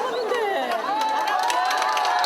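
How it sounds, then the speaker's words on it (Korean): An audience erupts into cheering, whoops and overlapping shouts as former Korean president Roh Moo-hyun appears, a loud, excited crowd roar with many voices rising and falling together. "노무현 전 대통령의 모습이 보이자 박수가 터져 나옵니다."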